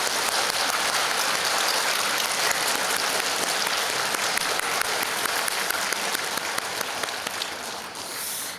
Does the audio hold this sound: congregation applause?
yes